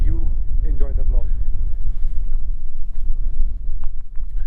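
Wind buffets the microphone with steady low rumbling gusts through an outdoor lunch in cold, high-altitude Hanle village in Ladakh, with a brief voice near the start.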